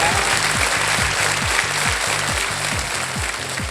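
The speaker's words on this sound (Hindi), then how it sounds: "ताली बज गई आपके लिए।" Studio audience applause on the quiz show KBC after a contestant's correct answer, a broad clapping wash laid over a rhythmic, pulsing music sting that repeats every fraction of a second to the end.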